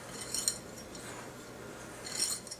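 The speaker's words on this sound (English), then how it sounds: "take a whisk and just whisk those 2 items together" A whisk stirs baking powder into flour in a bowl for oatmeal peanut butter cookie dough, giving two soft bursts of light metallic clinking and scraping against the bowl separated by a quiet pause, close and faint.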